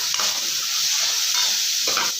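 Chana dal fries in hot oil in a pan for a North Karnataka-style cabbage palya, giving a dense continuous sizzle with a few louder scrapes as it is mixed.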